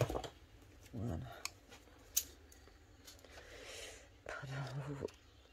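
Soft snipping of scissors through paper, a few quiet cuts with brief pauses, close by, with faint murmuring in the background.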